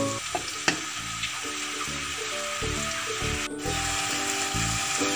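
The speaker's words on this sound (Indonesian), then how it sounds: "kita aduk-aduk supaya tidak gosong teman-teman." Chicken frying in sweet soy sauce in a wok, a constant close sizzle broken by a regular rhythm of spatula strokes and scrapes, with no talking.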